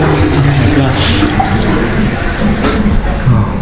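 Toilet flushing in a hotel room bathroom, a loud, close, continuous rush of water surging and draining for several seconds with no talking.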